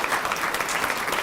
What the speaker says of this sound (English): That was my mama that started to clap.